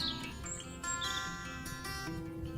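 Birds chirping along an outdoor walking path among flowering trees, a faint mix of short tweets and thin calls over soft background hum, with no talk.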